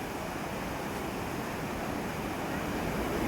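Sea waves rolling onto the shore at Paradip beach, a steady, loud, broadband roar of surf with wind noise and no talking throughout.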